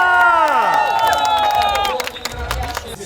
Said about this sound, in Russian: Давайте еще раз поаплодируем вашими бурными аплодисментами